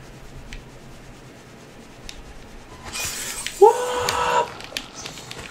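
Glass breaks in the video game Prey, a sudden bright shatter followed by tinkling shards after a few quiet seconds with faint background sounds.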